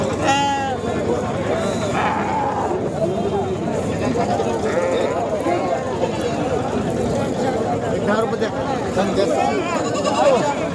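Goats and sheep bleat at a crowded livestock market in Sangola, with many animal calls mixed into a dense, steady background of people talking and market bustle.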